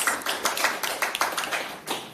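Sparse applause at a hurricane-readiness event for small businesses and farms: a modest audience's irregular hand claps, fairly faint and distant, with no talking.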